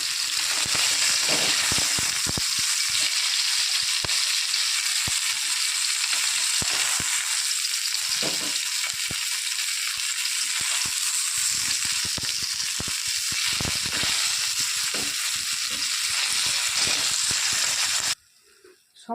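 Bhola fish sizzle and crackle in hot oil in a pan, a steady bright frying hiss with scattered pops running throughout before cutting off abruptly near the end.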